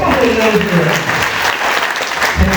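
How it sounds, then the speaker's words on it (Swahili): Audience applause at a church ceremony honouring elders, a loud, dense burst of clapping close by that fills the short moment, with voices mixed in beneath it. "Tumpigie makofi."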